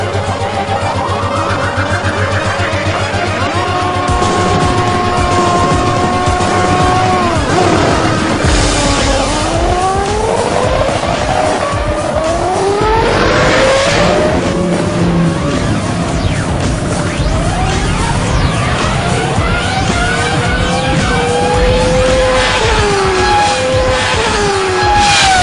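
Quarter-mile drag race between a Honda car, a motorbike and a boat: loud, continuous engine roar with rising and falling revs, gear changes and occasional tyre squeal, sustained and close throughout with no talk.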